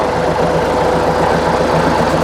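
A Hino P11C 320-horsepower diesel truck engine idles loudly and steadily, with a rough, rhythmic knocking throb close to the microphone.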